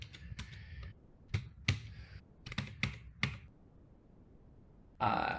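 A passport number goes in on a computer keyboard as a quick run of close, crisp key clicks in small bursts, then a pause, with a final louder tap and clatter at the end.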